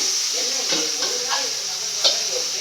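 Food sautéing in a pan for a South Indian curry, a constant close sizzling hiss with faint stirring scrapes.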